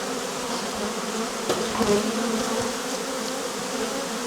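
A dense, steady drone of many honey bees buzzing together inside a hive being rescued, close and continuous, with a faint knock midway.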